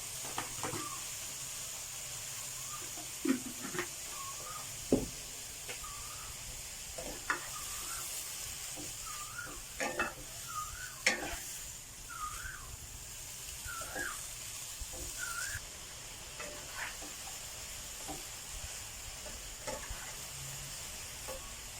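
Neem flowers stir-fried with grouper fish in a pan without oil, with a little water added. Quiet hissing and sizzling sits under scattered spatula scrapes and taps, and short chirping tones are heard throughout.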